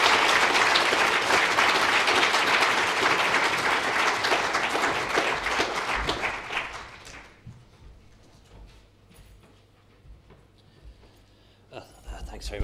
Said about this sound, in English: I'd like you to give him a warm round of applause to welcome the Minister.